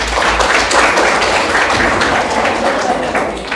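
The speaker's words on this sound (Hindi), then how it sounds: "तो तालियां एक बार जोरदार बजनी चाहिए" A studio audience on a Hindi quiz show breaks into dense, sustained applause, many hands clapping loudly and evenly throughout without a break.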